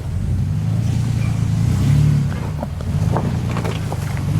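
Off-road vehicle creeping up an incline, a steady low engine drone with a swell in the middle and faint crunching of wheels over terrain, close and alone.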